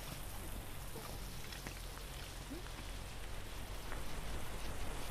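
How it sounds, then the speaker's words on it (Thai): Steady rain falls on a planted garden plot, a continuous wash of drops that grows a little heavier toward the end, with no voices. "เราโชคดีที่ฝนมาแล้ว"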